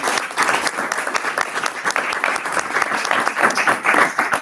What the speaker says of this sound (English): I think we can do a better round of applause.